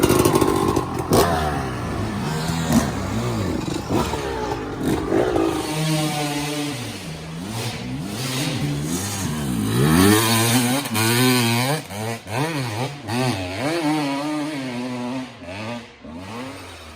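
A 2002 Kawasaki KX 250 two-stroke dirt bike on a woods trail, its engine revving and climbing in pitch through repeated throttle blips, loud and close, with a raspy, buzzing two-stroke note that rises and falls throughout.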